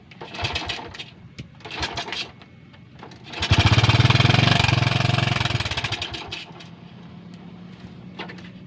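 A stalled motorbike being kicked back to life: a few short sputtering bursts, then the engine catches with a loud rattling drone that peaks and fades into a low idle, followed by brief knocks.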